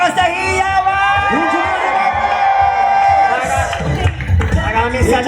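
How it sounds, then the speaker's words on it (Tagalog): At a crowded Araw ng Pasig anniversary celebration, the crowd cheers loudly with whoops, shouting and scattered claps, a continuous, close roar of voices that swells again near the end. "Isang malakas na hiyawan."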